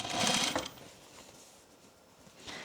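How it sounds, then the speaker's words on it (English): Sewing machine topstitching a pant waistband, a short steady whirring run of stitching that fades to quiet, then starts again briefly at the end. "you can top stitch it to the pant"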